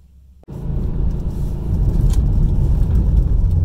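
A car running a Torqued Performance Stage 2 tune accelerates hard in second gear, a sudden loud engine roar kicking in after a quiet start and building steadily as the revs climb, heard from close up.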